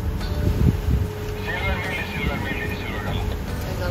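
Wind blows across a sailing boat at sea approaching Panama, with a continuous gusty rush and low rumble over the microphone, and faint voices talking underneath.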